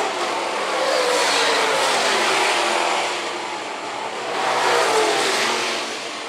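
Late model race cars racing at Phillips County Raceway, a loud, roaring engine wash that swells and fades twice as the field passes, heard continuously with no talk.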